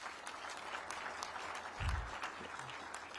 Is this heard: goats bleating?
no